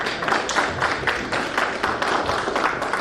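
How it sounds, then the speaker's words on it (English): An audience at a Business Alliance 2024 event applauding a doctor, giving dense, steady clapping from many hands that fills the room at full volume with no pause. "clap for the doctor"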